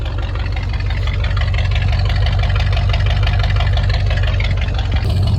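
A carbureted AMC 360 V8 with 170,000 miles and an original Rebel Machine cam idles steadily, a loud, close, continuous low rumble with a slightly lumpy, choked edge.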